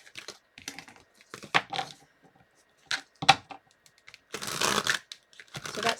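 Tarot cards shuffled by hand in short bursts of riffling and sliding, separated by quiet pauses, with a longer dense flurry near the end; close and fairly soft.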